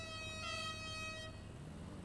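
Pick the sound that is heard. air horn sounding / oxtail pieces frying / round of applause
air horn sounding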